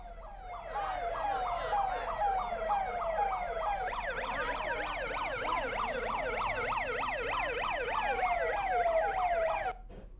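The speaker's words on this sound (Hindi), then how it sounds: "पीछे पीछे पुलिस की वैन सायरन बजाती हुई चल रही थी।" A police van siren wails in a fast, rising-and-falling yelp, steady and fairly clear for about nine seconds as the van follows behind a procession.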